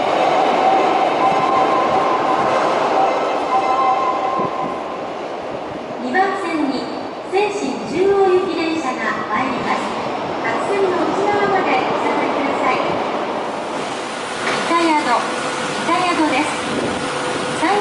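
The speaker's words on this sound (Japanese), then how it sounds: "1番線に新神戸行き電車が参ります。" A subway train arrives at a station platform on the Seishin-Yamate line, its low rumble and rolling wheel noise building under loud platform announcements and chime melodies.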